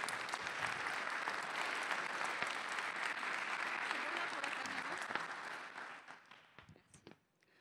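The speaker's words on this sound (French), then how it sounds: "On lui fait un tonnerre d'applaudissements." A crowd at a digital-inclusion launch event in Haute-Garonne applauds to welcome Régine, steady full clapping for several seconds that thins out and fades, with a few scattered claps at the end.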